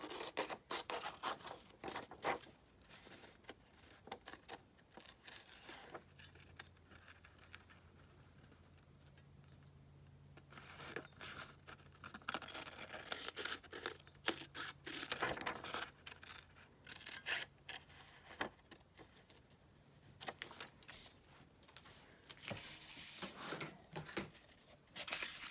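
Scissors snip through paper to cut out a design for an old journal, a close, quiet run of irregular clips and rustling rubs, with soft cooing birds in the background.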